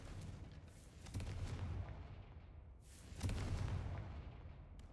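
A Confringo fire spell blast cast in the Hogwarts video game, heard as two heavy booming explosions about two seconds apart, each swelling and then trailing off into a rumbling tail, with no voice over them.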